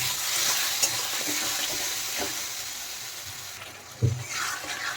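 Spice paste with chilli, cumin and coriander powders being stirred and fried in a pan, a soft continuous sizzle broken by occasional scrapes and a louder clack near the end.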